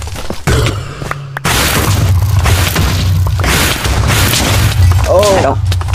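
A Minecraft Wither's explosions tear into blocks as it digs its own hole, giving loud, dense booming crashes that fill the whole stretch, with a player talking over the blasts.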